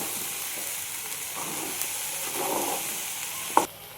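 Okra stir-fried in a pan with salt, sambar powder and turmeric, giving a soft continuous sizzle with light scraping as it is tossed and a sharp clink of the utensil near the end.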